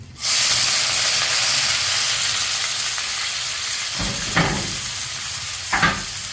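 Onions sizzle in hot oil with bay leaf, cinnamon and clove. The frying hiss is loud and steady, and a couple of brief stirring scrapes come near the end.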